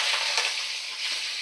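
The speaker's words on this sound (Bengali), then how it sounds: "আমি কড়াতে চিংড়ি মাছগুলো দিয়ে দিলাম।" Shrimp frying in a wok, a steady loud sizzle of hot oil that holds nearly constant throughout, with no talking.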